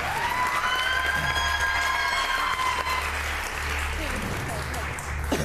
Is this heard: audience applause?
yes